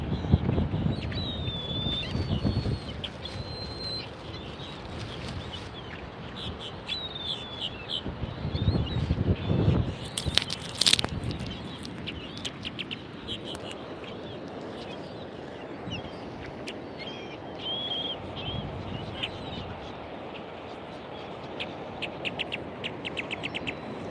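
Birds being fed in a city park call and chirp in scattered bursts over a steady outdoor background hum, with a louder rush of activity partway through and no talking.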